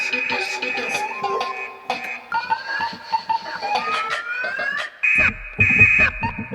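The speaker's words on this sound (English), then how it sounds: "we now have an instrument I made from these car alarm samples, and so I could actually play it all on the keyboard." Melodic notes played on a keyboard instrument built from car alarm samples, with electronic siren-like tones that bend and slide in quick phrases, near and clear, ending with a burst of denser, fuller notes.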